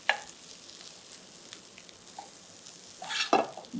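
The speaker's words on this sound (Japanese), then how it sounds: "これだけ卵を、カリッと焼くと剥がれませんので" Egg-coated chicken breast frying in a pan for a French-style piccata: a soft, steady sizzle throughout, with a louder scraping and stirring burst near the end, close and without talk.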